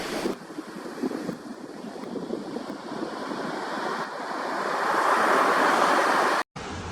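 Ocean surf washes onto a black sand beach with clear blue water, a steady rushing wash mixed with gusty wind noise that builds louder toward the end.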